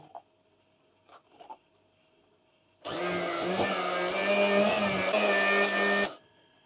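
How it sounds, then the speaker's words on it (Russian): An electric hand mixer whips butter and condensed milk in a bowl, starting abruptly after a few faint clinks and running as a loud, steady whine for about three seconds before cutting off. "Масло и сгущенку помещаем в чашу и взбиваем."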